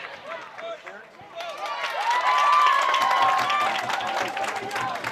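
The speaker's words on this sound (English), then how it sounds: "the Glastonbury fans still all here, still cheering" Glastonbury fans in the stands at a high school boys varsity lacrosse game against Darien cheer and clap. The crowd noise swells and stays sustained, with a whistle-like tone and game commentary over it.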